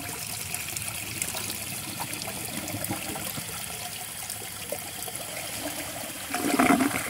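A 2003 Mansfield toilet flushing a washcloth: a steady rush and trickle of water runs throughout, then a louder gurgling swirl near the end as the bowl drains.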